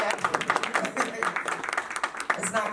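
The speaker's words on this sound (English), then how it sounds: "You can clap for that." An audience clapping at a Black History Month celebration held at an African American museum, a dense, close burst of applause that holds steady with scattered louder claps throughout.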